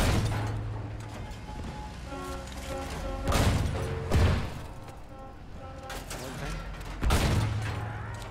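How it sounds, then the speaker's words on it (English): Battlefield 1 tank combat with a mortar tank shooting: three heavy, booming blasts land a few seconds apart over a constant rumble of engine and battle noise, with a voice heard faintly underneath. "They're shooting with mortar tank here."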